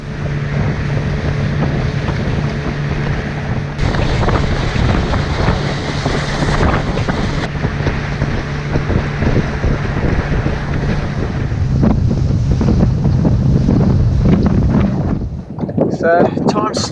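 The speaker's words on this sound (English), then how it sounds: "It's a little bit windy." Wind buffeting the microphone beside a tropical island creek, a loud continuous rushing roar with gusting swells and rumble, with faint water and boat-like sounds underneath.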